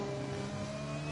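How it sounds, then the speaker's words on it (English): A racing car engine in a sim racing video game drones steadily at a constant high pitch, one continuous, even tone with no breaks and no talk over it. "I don't know if it's just my ear and the sound of the engine"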